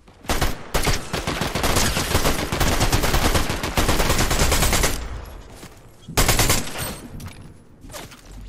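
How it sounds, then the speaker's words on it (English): Gunfire in the video game Fortnite rattles in rapid, loud bursts of shots that run almost without a break. There are brief pauses, and then the firing starts again, with no talking over it. "Somebody shooting at me."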